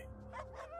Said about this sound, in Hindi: दूर कहीं कुत्ते भौंक रहे थे।